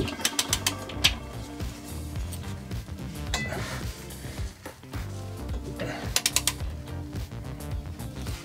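A ratchet clicks as it tightens the differential bolts on a BMW E46 330 with an 18 mm socket to 95 Nm. Close-up bursts of rapid pawl clicks are separated by short pauses, with faint workshop noise in the background.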